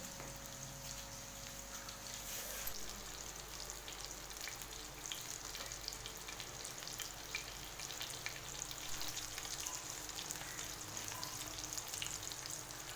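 Chapli kababs fry in a pan with a continuous faint crackling sizzle, like light rain, heard steadily under a low background hum.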